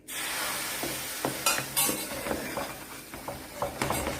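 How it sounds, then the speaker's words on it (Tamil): Hot oil poured into a Mysore pak mixture while it is stirred steadily, with a quiet sizzle and bubbling beneath repeated scraping, clinking strokes of the spoon against the pan. "மிக்ஸ் பண்ணிகிட்டே இருக்கணும், எண்ணெயை ஊற்றிட்டே இருக்கணும்."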